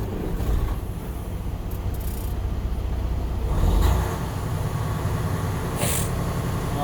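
Truck engine idling and revving during an in-cab inspection restart, a steady low rumble that swells briefly mid-clip, heard alone with wind-like noise.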